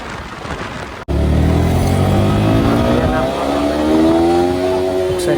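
A 2024 Yamaha R15 V4 155cc motorcycle with a liquid-cooled SOHC engine revs hard at high speed, its loud rising whine climbing through the gears after a brief cut, with wind noise close by.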